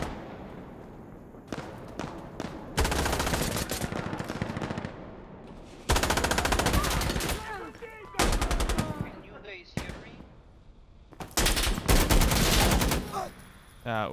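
Bursts of automatic gunfire and single shots from Insurgency Sandstorm bomb defusal combat, loud and close, coming in sharp volleys separated by brief lulls.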